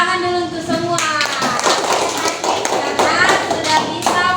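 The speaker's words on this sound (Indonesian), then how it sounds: "Tepuk tangan dulu untuk semua" A primary school class claps together after finishing an activity, a rapid run of crisp hand claps close by, mixed with children's voices and a teacher talking.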